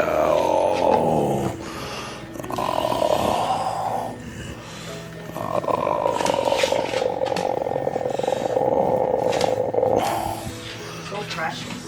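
Puppies, young English-breed farm dogs, growl and snort in low rumbling bursts close by, with short pauses between, while people talk softly over them on a homestead.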